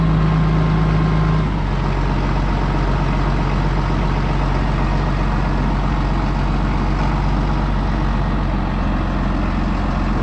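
A farm tractor engine runs steadily at idle with a low, constant rumble, close and loud throughout, with no talking.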